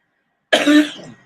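A single sharp cough, close and fairly loud, after a moment of silence.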